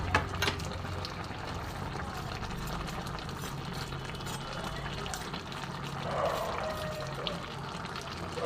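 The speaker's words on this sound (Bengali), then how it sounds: "দেখো কি সুন্দর ফুটছে।" Fish curry with fried small morala fish and vegetables boils in a pot, giving a steady, close bubbling and gentle watery churning throughout.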